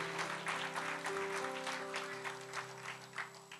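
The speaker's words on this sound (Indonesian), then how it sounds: "Berikan tepuk tangan bagi Tuhan Yesus" Applause from a church congregation during worship, steady clapping held under sustained music and organ-like tones for the whole stretch.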